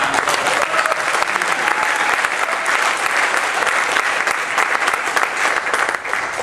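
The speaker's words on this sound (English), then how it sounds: "can everyone give them please a big round of applause for putting this event on?" A crowd at a tech-week fireside chat applauds the event organizers, a steady, dense burst of clapping that fills the room for several seconds without pause.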